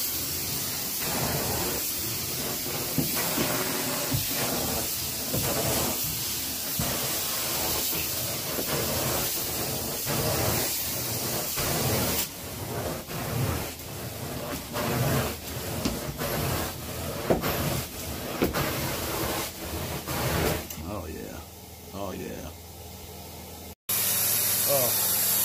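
A carpet cleaning machine rinses a spot on a carpet with a loud, continuous spraying hiss and suction that runs steadily for most of the stretch, then changes briefly near the end.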